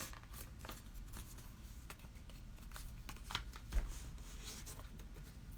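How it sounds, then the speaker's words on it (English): Sheets of paper being folded by hand into a small zine, quiet crinkling and soft creasing rustles with a couple of light taps, close and low in level. "we're gonna fold it this way"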